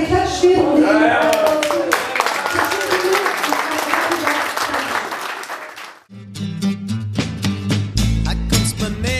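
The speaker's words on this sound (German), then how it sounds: "Jetzt haben wir aber geklatscht" An audience claps through a TV music show, steady applause mixed with voices for about six seconds, then it stops abruptly and music with a pounding low beat takes over.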